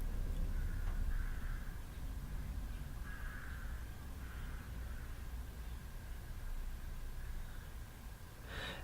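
Hundreds of crows in a residential area caw faintly in the distance, scattered calls under a steady broad background hiss.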